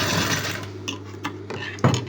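A sewing machine runs a short burst of stitches along a blouse cup dart, a steady low motor hum for about a second and a half, followed by a few separate mechanical clicks and knocks.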